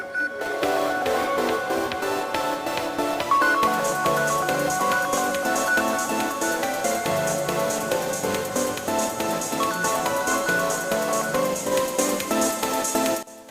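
A Redmi 9 phone rings loudly through find-my-device, playing a steady tonal melody that repeats without a break for the whole stretch, with no voices over it.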